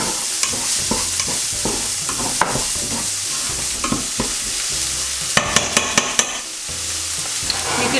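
A medium onion sizzles and fries in a pan for butter chicken, with steady broadband crackle and repeated clacks of a spoon stirring it, close and fairly loud with no talk.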